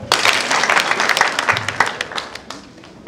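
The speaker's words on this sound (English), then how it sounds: "Can we clap for her?" Graduation ceremony attendees at the University of Embu in Kenya clap for a student, with scattered sharp claps and a looser crowd patter that thins out toward the end.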